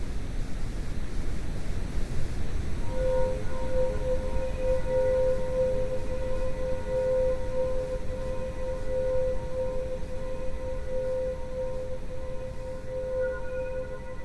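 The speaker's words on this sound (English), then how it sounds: "This is the sound of Pluto." Sonified Pluto, the dwarf planet, rendered as a steady wash of broadband noise like distant surf, with thin sustained tones layered on top that stay constant throughout.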